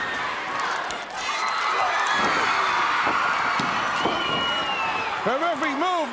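A 1985 wrestling arena crowd roars and cheers steadily throughout, loud and dense, with shouts rising above the din and an announcer's voice audible at times over the noise.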